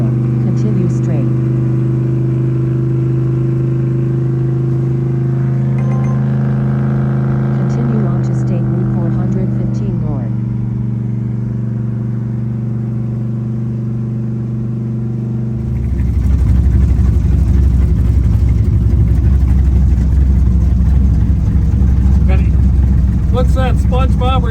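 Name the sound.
car engine accelerating, flooring the gas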